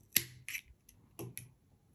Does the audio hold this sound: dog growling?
no